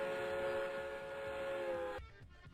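A sustained train whistle blows as a steady tonal wail for about two seconds, then stops abruptly, leaving faint background noise.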